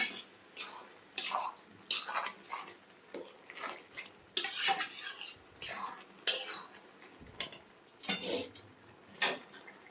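A spoon stirs katla fish roe and potato curry in a pan, making repeated scraping, clinking strokes in uneven bursts with short quiet gaps, close and fairly loud.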